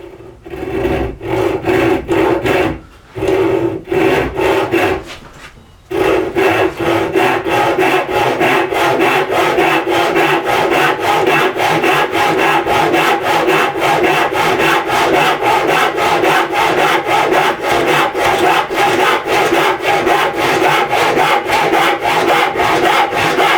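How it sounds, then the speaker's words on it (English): Steady rhythmic rasping of a hand tool trimming the bottom edge of a wooden piece, close and loud, with brief pauses early on before continuous back-and-forth strokes carry on throughout. "I need to trim a little of the bottom here or there"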